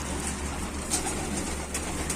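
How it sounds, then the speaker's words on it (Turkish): Soft pigeon cooing over a steady low outdoor hum at a coop, faint and somewhat distant, with no voices. "Şu güvercinleri göstereyim."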